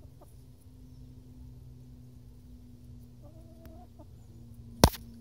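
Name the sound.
chicken clucking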